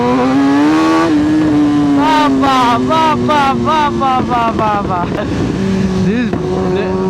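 A tuned Kawasaki ZX-10R with a race clutch revs hard under wind rush, its engine pitch climbing and dropping through quick gear changes, with brief crackles as the throttle closes; a rider speaks over it.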